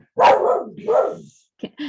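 A dog barks nearby, two loud, full barks followed by a couple of shorter yips, with silence between them.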